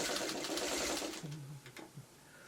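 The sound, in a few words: sewing machine stitching quilt blocks together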